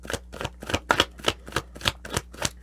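Tarot cards are shuffled by hand, giving a steady run of about a dozen crisp, rhythmic riffling bursts, close and clear, with no talking over them.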